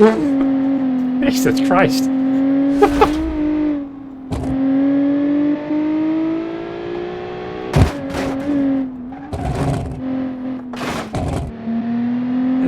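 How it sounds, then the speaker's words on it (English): Crackling, popping off-throttle burble from the XC7 race car's engine in a jungle rock hillclimb video game, a steady engine drone broken by sharp pops, with someone talking over it. "horrible, like, hockling noise from the engine."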